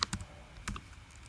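Someone types on a computer keyboard, making a few scattered, soft key clicks close to the mic, then a quiet pause.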